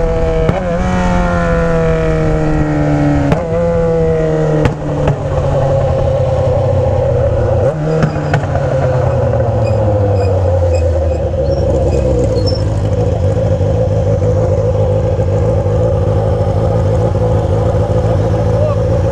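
A Yamaha XJ6 motorcycle with a Fueltech exhaust runs loud and close, its engine note rising and falling through gear changes as it decelerates. Sharp pops and crackles cut in, and voices can be heard faintly.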